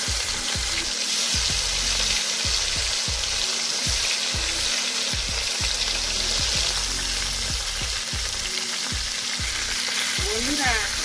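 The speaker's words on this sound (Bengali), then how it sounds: "এবার আমি শোল মাছগুলো ভেজে নিচ্ছি।" Snakehead (shol) fish fry in hot oil in a kitchen pan with a loud, continuous sizzle and spattering close by, with rhythmic scraping or stirring knocks throughout and no talking.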